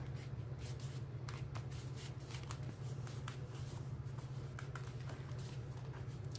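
Paper being creased and folded into a Valentine treat holder, quiet crisp rustles and soft pressing sounds close up, repeated in short bursts.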